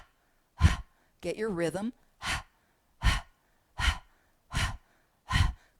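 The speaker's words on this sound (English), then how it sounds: "take a half an inhalation and start panting with the mouth open" Quick open-mouth panting from a guided breathing exercise, a series of short, evenly spaced breathy bursts close to the listener, broken once by a brief spoken instruction.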